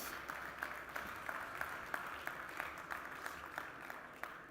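An audience at a developer livestream event claps, producing a sustained, moderately distant patter of many hands with a few sharper individual claps.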